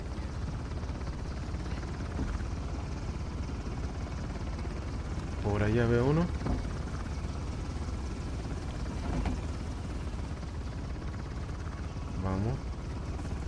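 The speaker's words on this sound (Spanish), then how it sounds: "No, encontraré otra manera de derribar ese helicóptero." A helicopter in the video game Uncharted: The Lost Legacy keeps up a steady rotor drone underneath, while a player speaks briefly over the in-game engine noise.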